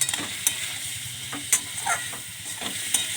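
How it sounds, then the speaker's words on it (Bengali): Spices sautéed in a pan with a splash of water give a soft, steady sizzle and hiss, punctuated by sharp spatula scrapes and taps against the pan at close range. "একটু জল দিয়ে কষানো হয়ে যাচ্ছে"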